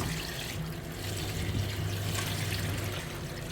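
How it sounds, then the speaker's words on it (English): Water pours steadily into a cooking pot for a Zobo hibiscus drink, a continuous close splashing rush with a low gurgling undertone and no talking. "Then I'm going to pour it inside my pot."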